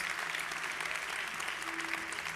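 A church congregation applauds during a sermon: dense, steady clapping from many hands fills the whole stretch at an even level, with no clear voice on top.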